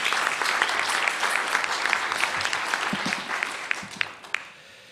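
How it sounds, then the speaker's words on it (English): Applause fills a National Press Club luncheon room, a steady roar of many hands that holds for several seconds, then thins to a few scattered claps and dies away. "now you can give them a round of applause"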